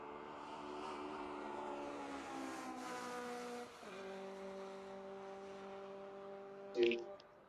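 A Scion FR-S race car lapping Road Atlanta gives a steady, faint engine drone with a slight pitch shift midway and a brief louder burst near the end.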